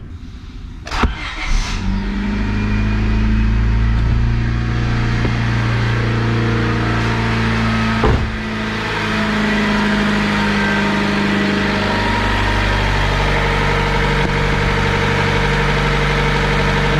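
A racing car engine cranks and catches with a sharp burst, then settles into a loud, steady, deep idle with a brief blip partway through, close and continuous.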